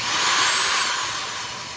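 A right angle drill whirs as its trigger is bumped, the motor spinning up in one brief, steady, close hum that slowly fades.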